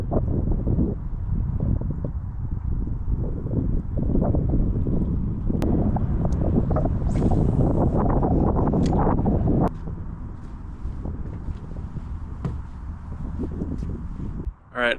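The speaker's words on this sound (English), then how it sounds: "the wind is making it really hard to cast" Strong wind buffets the microphone at a lakeside fishing spot, a constant loud rumbling roar with gusts that rise and ease over the whole stretch.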